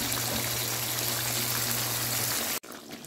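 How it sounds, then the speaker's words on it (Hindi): Tomato-boiling water is poured into an Afghani highway-style chicken karahi, a steady, soft, splashing hiss that runs for a couple of seconds and then stops abruptly, with no talking. "जिस पानी में मैंने टमाटर बॉयल किए थे वो ऐड कर रही हूँ।"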